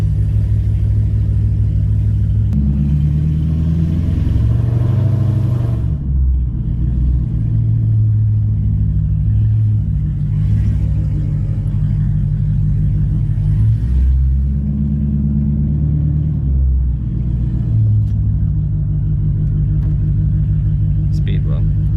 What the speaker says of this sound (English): I can't take an exhaust clip vid and not do the driving portion.